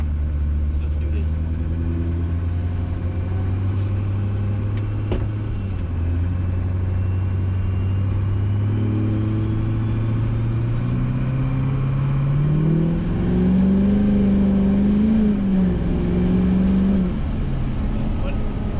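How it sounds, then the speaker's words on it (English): A pickup truck with a swapped Duramax diesel engine on its first test drive, a steady low engine drone that climbs in pitch as it accelerates, with people talking over it throughout. "All right, first test drive."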